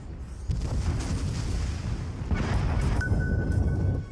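Heavy booming impacts of aircraft bombs striking an enemy ship in World of Warships, rumbling explosions in two big waves followed by a thin ringing tone, with no talk over them.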